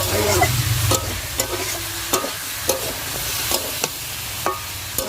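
Vegetables stir-fried in a pan over a wood-fired clay stove, a steady close sizzle broken by sharp repeated scrapes and knocks of a spatula roughly every half second, with no talking.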